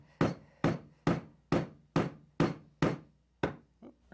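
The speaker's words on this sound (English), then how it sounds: "Would you like to use the hammer?" A hammer strikes wood repeatedly while children build a wheeled craft, eight or nine sharp, evenly spaced knocks at close range, with one lighter tap near the end and no talking over them.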